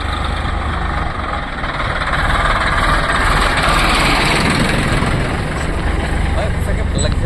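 A tractor engine runs near a tea garden in Goalpara district, Assam, giving a steady, loud, continuous rumble that fills the whole stretch without a break.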